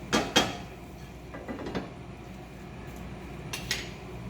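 A spoon stirring turnip root cooking in a pot, with a few close scraping clinks at the start and softer scrapes and knocks later, over quiet background.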